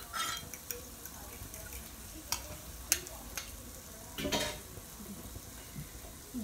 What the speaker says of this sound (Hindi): हम इसको अच्छे से मिक्स करते हैं।